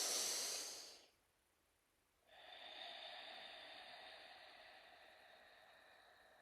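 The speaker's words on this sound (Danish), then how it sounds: "Tag så et fuldt åndedrag." A full, deep breath taken during a mantra meditation, a long airy inhale-like hiss followed by a pause and then a softer, steady breathy exhale, close and quiet.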